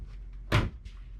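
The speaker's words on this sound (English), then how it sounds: "Whoa, these doors are sticky." A sticky cabinet door in the bedroom of a 2025 Jayco Northpoint 377 RLBH RV gives a single short thud as it opens or closes, near and fairly loud against a quiet background.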